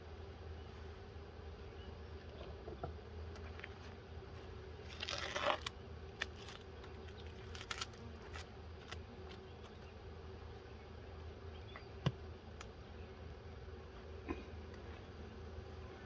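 Honey bees buzz inside an opened nuc, a faint, steady drone close by, with a few brief rustles and clicks of handling over the low hum.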